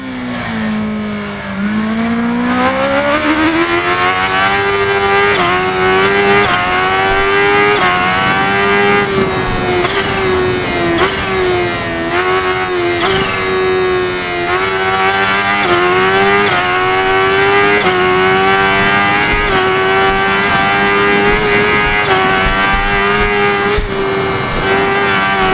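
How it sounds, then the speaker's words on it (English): A 2021 Kawasaki ZH2 motorcycle with a supercharged 998 cc inline-4 engine in the game RIDE, loud and close, its revs climbing and falling through repeated gear changes in a sustained high-pitched howl. "The 2021 ZH2 is equipped with a 998 cubic centimeter inline-4 supercharged engine,"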